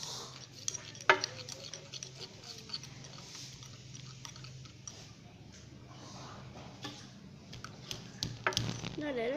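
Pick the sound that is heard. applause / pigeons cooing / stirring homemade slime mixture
stirring homemade slime mixture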